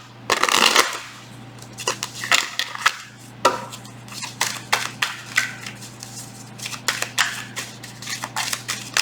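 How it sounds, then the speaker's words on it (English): Tarot cards being shuffled by hand in a quiet room, a quick series of crisp riffling and slapping bursts in irregular rhythm, close and fairly soft, with no talking. "One more shuffle."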